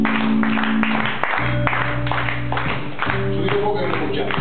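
Theatre audience at a live comedy and magic show clapping along in steady rhythm over loud stage music, the claps dense and close throughout.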